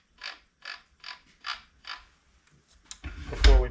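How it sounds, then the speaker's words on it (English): A rebuilt B2 edger's motor armature is turned over by hand, giving five evenly spaced squeaky creaks, followed by a louder clattering mechanical rattle at the end. "you want to make sure your armature turns over freely"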